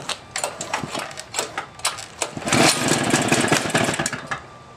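A Toro S-200 snowblower engine is pulled a few times with short sputtering bursts, then catches and runs with a loud, buzzing, steady small-engine drone up close.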